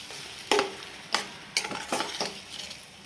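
Ginger paste stirred into frying tomatoes in a pan for an Indian dish, several crisp spoon scrapes and clinks against the pan in an uneven rhythm over a low sizzle, close up with no talking.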